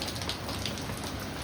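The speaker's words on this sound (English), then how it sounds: "you can see it's pouring out now" Heavy rain pours steadily outdoors on Cape Cod as winds pick up, a dense, continuous hiss of drops drumming on surfaces with no break, fairly close and even in loudness throughout.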